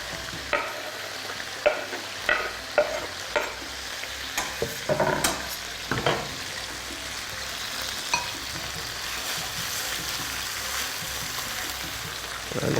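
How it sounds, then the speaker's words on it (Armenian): Onions frying together with chicken pieces in a pan for a garlic soup, giving a steady sizzle and crackle with repeated stirring scrapes and clicks throughout, close and fairly quiet, with no talking. "Սոխը կլցնենք տապակի մեջ և միասին կտապակենք հավի"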